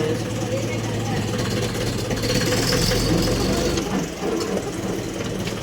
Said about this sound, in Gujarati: આપણે ટ્રેક્ટરને ચાલુ કરી દીધું.